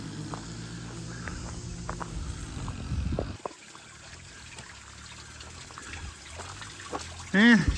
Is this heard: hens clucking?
no